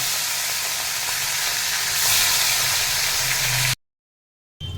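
Fish sizzles in hot oil with a loud, even frying hiss that holds for almost four seconds, then cuts to silence before a short burst returns; no one speaks.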